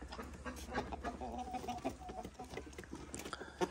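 Jersey Giant chickens, four roosters among twenty hens, cluck and call in a farm coop, faint and somewhat distant, with scattered overlapping clucks throughout.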